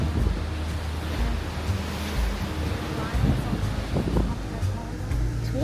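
Ocean surf rolls and breaks in a steady, broad wash of noise, with gusts of wind buffeting the microphone and a low rumble underneath throughout.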